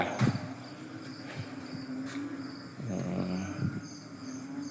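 Frogs croak irregularly at night amid a constant insect-like drone, low throaty calls rising and falling in loose bursts; no voices.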